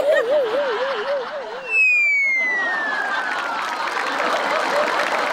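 A studio audience at a Marathi comedy show breaks into a sustained wash of applause and crowd noise. It follows a warbling, sliding whistle effect that sweeps downward.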